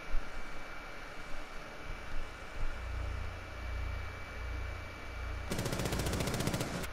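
Gunshots in Rainbow Six Siege: a low, quiet stretch gives way to a sudden loud, rapid burst of automatic fire near the end.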